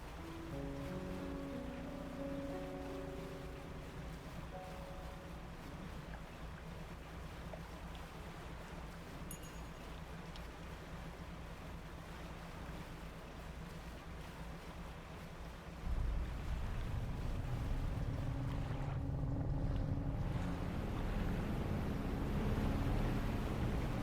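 A boat engine idling at sea in the fishing game DREDGE, a low droning hum with faint water and wind that steps up louder partway through and keeps running steadily.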